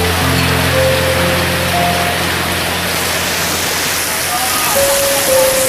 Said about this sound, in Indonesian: gelap karena saking lebatnya hujan.